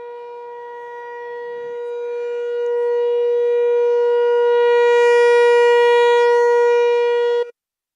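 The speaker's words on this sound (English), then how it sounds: "As we wind down the 11 Central, noon Eastern siren." A civil defense siren sounds for the noon test near a high school baseball field in Wisconsin, a loud steady wail that rises and swells for several seconds before cutting off abruptly.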